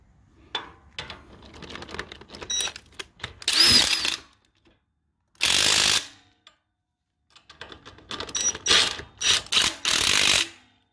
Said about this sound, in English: now we're gonna use my impact wrench. We're gonna secure these bolts.